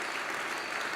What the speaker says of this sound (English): You can applaud for that, folks.